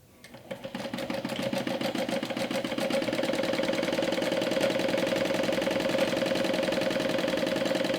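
Sewing machine stitching a backpack-turned-handbag, a rapid steady mechanical whir and needle rattle that builds up in the first seconds and then runs evenly and close, with no voices.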